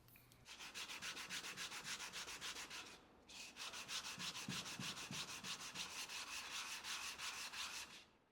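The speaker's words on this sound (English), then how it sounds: "hand sanding with a nice fresh 60 grit sandpaper on a piece of glass or a surface plate, something that's super flat" Fresh 60 grit sandpaper rubbed by hand against a flat glass plate or surface plate while working a camp knife, rapid rhythmic rasping strokes with a short pause near the start, close and alone.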